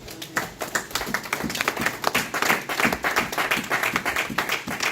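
A church congregation applauds together in steady, dense clapping that stays loud and continuous throughout, with no voices standing out.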